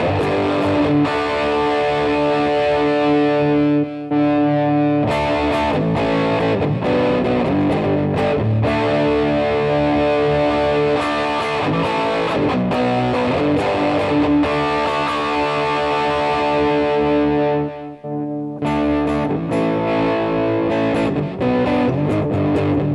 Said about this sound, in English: So now I've got the distortion all the way up.